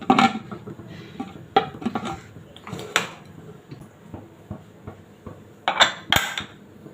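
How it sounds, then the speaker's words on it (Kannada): Metal clanks and clicks of a pressure cooker lid being handled and closed over mutton leg soup, several sharp knocks spread out with quiet gaps between. "ನಾನು ಕುಕ್ಕರ್ ಮುಚ್ಚಲಾಕಿ ಮುಚ್ತಾ ಇದ್ದೀನಿ"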